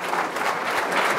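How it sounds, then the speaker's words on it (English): A brief burst of steady audience applause at a Chicago tourism vision presentation, dense clapping from a room full of people with no voices over it. "Give them a round of applause."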